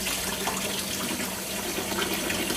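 Tap water runs steadily through natural sausage casings in a kitchen sink, a continuous bright hiss and splatter with no pauses.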